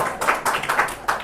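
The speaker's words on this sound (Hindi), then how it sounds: "सबसे पहले इसके लिए ताली बजाओ लोग" Students in a Class 10 classroom clap briefly, a short burst of several sharp, close hand claps in an uneven rhythm, with no talking over them.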